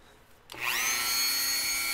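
A Dremel rotary tool whirs up from silence, a high-pitched spinning whine that starts abruptly and holds steady, loud and close.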